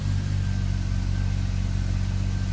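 A 1997–1998 BMW E39 528i with a manual transmission conversion idles steadily after starting, a close, continuous low engine drone with a faint clatter, no voices over it.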